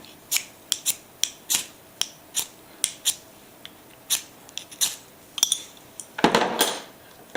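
A striker scraped along a ferro rod from a compact survival and tactical kit gives a dozen or so short, sharp rasping strokes in an uneven rhythm, close and fairly quiet, ending in one longer grinding scrape, with no talking.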